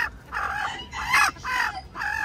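A brooding hen clucks loudly and close by in a series of drawn-out, throaty calls with short gaps between them.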